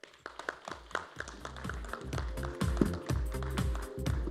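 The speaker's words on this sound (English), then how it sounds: "Can we have a huge round of applause for him?" An audience at an HR leadership conference panel claps in a sparse, uneven patter of individual hand claps that builds slightly, fairly quiet and close.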